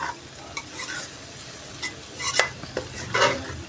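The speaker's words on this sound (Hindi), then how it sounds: "तो अब इसकी मिक्सिंग करनी है अच्छे तरीके से, सारी मिक्सिंग करें ताकि मसाला जो है कोई भिंडी जो है खाली ना रहे" A spoon stirs and tosses spiced lemon okra bhindi masala in a pan, making soft scraping scuffs and a few sharper clinks against the metal over a faint sizzle, with no voices.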